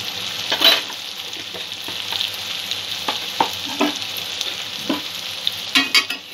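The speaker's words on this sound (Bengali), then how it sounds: "সমস্ত মশলাগুলো একটু ভালো করে কষিয়ে নেব" Ground coriander and chili powder sizzle and fry in a hot pan for a Bengali shol fish curry with mixed vegetables, a steady crackling hiss with occasional soft stirring scrapes, close and continuous, no talking.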